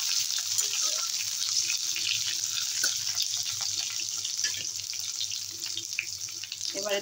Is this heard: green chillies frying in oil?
yes